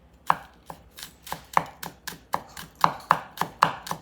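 Green onion is chopped on a cutting board for Korean enoki mushroom pancakes, a steady run of crisp, close knife strikes at a brisk, even rhythm with no talk over them.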